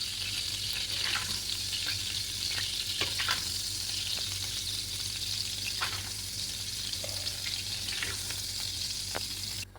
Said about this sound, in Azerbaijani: Biraz da bu cür qovrulsun.